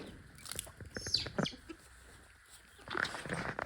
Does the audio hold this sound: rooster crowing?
yes